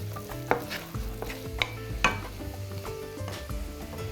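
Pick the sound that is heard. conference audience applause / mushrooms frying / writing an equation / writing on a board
mushrooms frying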